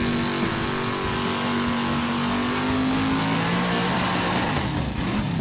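A truck engine revs loud and steady throughout, a sustained roaring drone with a rising tone, in an ad for a mud truck event at a park off Highway 431 in East Alabama.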